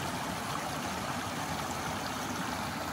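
A stream flows steadily at a grassy outdoor spot, a continuous close broadband rush and trickle of water filling the scene without pauses or voices.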